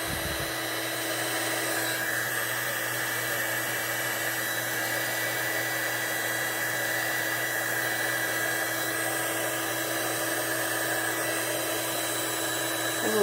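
Steady blowing of a hair-dryer-like air tool over freshly poured Bond Craftor tabletop resin, a constant whooshing whine that starts abruptly and runs unbroken throughout, close and fairly loud with no talk.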